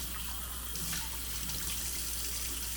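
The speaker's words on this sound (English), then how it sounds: "you do need to have some way of rinsing it all off" A GSI Coffee Rocket being rinsed under a running tap: a steady, close rush of water splashing into a sink for a few seconds, with no voices.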